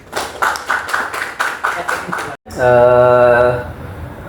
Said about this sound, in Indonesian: Kita berikan aplaus untuk Kevin.